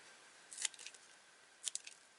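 Scissors snip paper for a scrapbook gift pouch in two short bursts of crisp, close cuts separated by a pause, over a faint quiet background.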